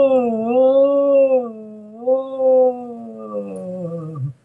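A voice imitates a haunting, wailing howl like one heard in the woods, giving a long sustained tone that rises and falls slowly over several seconds, fairly loud and close, before trailing off.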